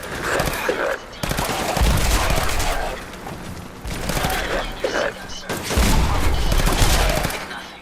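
Rapid gunfire in Fallout 4 hammers out in loud, close bursts of automatic shots separated by short pauses, with someone speaking over the firing.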